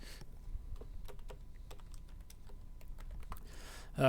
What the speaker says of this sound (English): I will type it in the chat